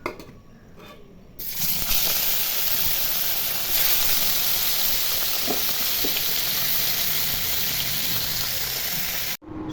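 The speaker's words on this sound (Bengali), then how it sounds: "তেল গরম হয়ে গেছে, এখন মাছগুলো ভেজে নিব।" Tilapia fish pieces, rubbed with turmeric and salt, sizzling in hot oil: after a quiet second or so a loud, steady frying hiss starts and holds close up until it cuts off abruptly near the end.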